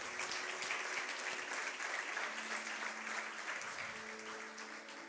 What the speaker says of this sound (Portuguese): Aplaudam a Jesus